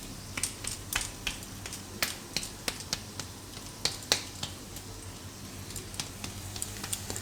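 Jowar flour dhebra roast on low gas, giving off a quiet steady sizzle punctuated by sharp, irregular crackles and pops, close and clear with no talk.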